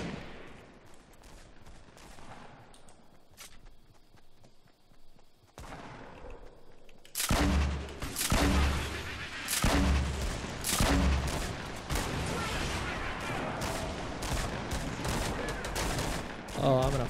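Gunfire in the Fortnite battle royale video game: quiet at first, then loud bursts of rapid shots and single cracks repeat over several seconds, with a few background game sounds.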